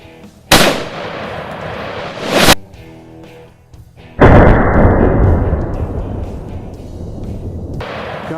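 Rifle gunshots during a hog hunt in Texas: two loud, close blasts a couple of seconds apart, each followed by a long rolling echo across open country.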